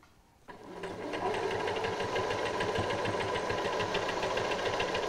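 A sewing machine runs steadily, stitching piping, starting up after a brief quiet moment and then holding a loud, continuous mechanical whir with a rapid needle rhythm, close and alone.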